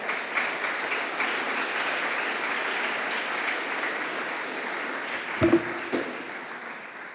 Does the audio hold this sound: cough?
no